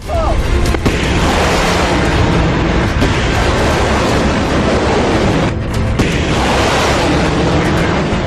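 Heavy, continuous roaring rumble of artillery and ammunition explosions at sea, deep booming blasts rolling over one another, loud and dense, mixed with crashing waves.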